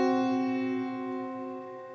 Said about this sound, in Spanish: Pues el de quinta disminuida suena así, suena como lúgubre, tétrico.